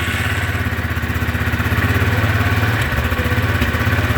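Yamaha side-by-side engine on its first start-up with the choke pulled, a loud, close, steady chugging idle with a throbbing pulse and slight unevenness, running alone without talk.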